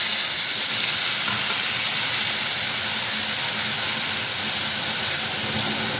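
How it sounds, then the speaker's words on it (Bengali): Onion paste frying in hot oil with bay leaf and cumin in a home kitchen, a steady loud broadband hiss and sizzle that holds evenly throughout with no talk. "এবার আমি এই তেলের ভেতরে দিয়ে দেব পেঁয়াজ বাটা"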